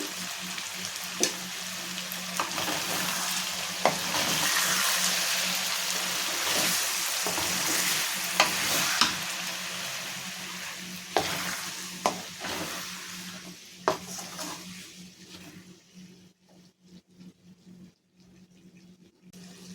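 Raw potato pieces fry in oil and are stirred in a pan, a continuous loud sizzle broken by scraping spoon knocks, easing to quieter crackling toward the end.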